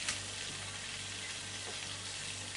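Ide fish cutlets fry in a pan with a soft, steady sizzle and crackle that holds evenly throughout, quiet and close, with no voices.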